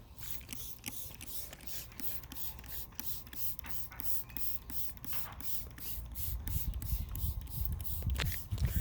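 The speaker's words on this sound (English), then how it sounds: "I just take my spray bottle and you just really soak the plants" A hand-pumped spray bottle mists neem oil onto plants, a quick rhythmic series of sharp spritzes repeating steadily about twice a second, close and fairly loud with no voices.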